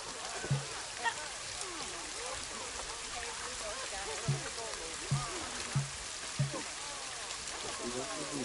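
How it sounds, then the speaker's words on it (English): Steady rain falls in the Planet Zoo game as a soft, continuous hiss, with a few faint low thumps scattered through it and no talking. "Oh, it's raining."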